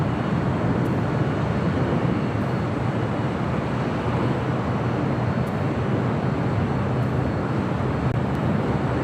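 Delta Air Lines Boeing 767-300ER, 33 years old, at LAX: a steady, loud broadband jet roar holds without a break throughout, like engine and cabin noise heard from on board.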